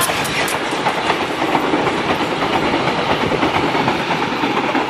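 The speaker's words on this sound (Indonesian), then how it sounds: "Ini sepertinya kereta" An airport train rumbles past loudly and close on a sharp curve at Kalimenur, Kulon Progo, Yogyakarta, with continuous clattering of wheels on rails throughout.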